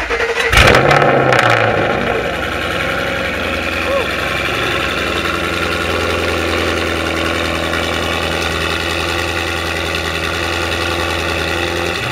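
A Ford Mustang engine, cylinders soaked with penetrating oil, cranks briefly, catches with a loud burst and settles into a steady, rumbling idle that continues evenly to the end.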